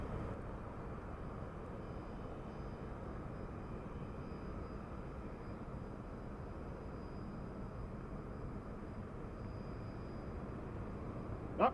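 A jet takes off from San Diego airport, its engine roar a faint, steady distant rumble that holds evenly throughout, with no voices.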